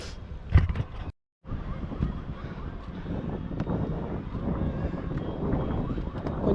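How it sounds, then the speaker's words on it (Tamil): Wind gusts across a hill fort climb at Namakkal, roaring and buffeting the microphone in a steady rough rush, with a brief dropout near the start, then continuous blustery noise. "கொஞ்சம் மேலே ஏறும்போது தாங்க நல்லா காற்றடிக்குது."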